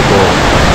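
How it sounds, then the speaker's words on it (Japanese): Yutaki waterfall rushing out of Lake Yunoko in Okunikko in autumn, a loud, continuous broadband roar of falling water close by, steady and unbroken. "ここは、湯の湖、湯滝が始まるところですね。"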